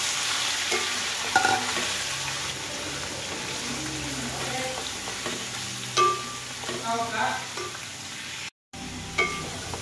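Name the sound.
sautéing adobo in a pan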